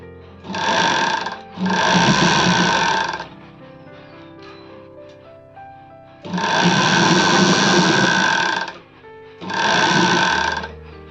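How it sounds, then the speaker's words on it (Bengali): Sewing machine stitching the folded hem of a kurti, four loud close bursts of rapid whirring stitches separated by short pauses with faint handling sounds. "আবার দু ফোল্ড করে চাপটা সেলাই করবেন"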